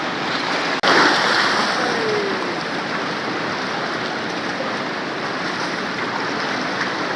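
Cold snowmelt water of the Neelum river rushes in a constant loud, close roar, with a brief knock near the start.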